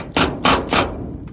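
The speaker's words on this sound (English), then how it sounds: "holding the impact driver in place, go forward a little" An impact driver fitted with a straight bit works on a screw during a caravan strip-down, giving three close, loud hammering bursts in quick succession before trailing into quiet.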